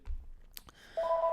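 A telephone in a room gives a couple of soft clicks, then a sustained two-tone electronic beep near the end, fairly quiet and close, with no talking.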